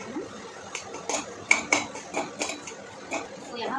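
A utensil scrapes and taps against a pan while halwa is stirred with ghee. The clinks and scrapes come in a rhythmic series of sharp knocks, close and moderately loud, and soft talk sits faintly underneath.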